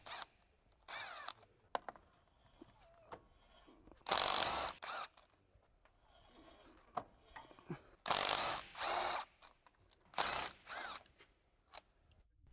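Electric impact wrench on a 15mm deep socket with an extension bar, taking the drive shaft mounting nut off a Jeep Wrangler JK: several short, loud, buzzing hammering bursts separated by quiet pauses and faint handling clatter.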